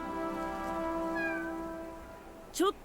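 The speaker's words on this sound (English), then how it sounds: "There's a cute kitty." A cat in the video game Blue Protocol lets out a long, sustained meow followed by a short, rising chirp, close and moderately loud over a soft game ambience.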